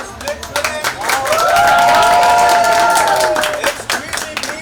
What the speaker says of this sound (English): let's have a huge round of applause for Split Villain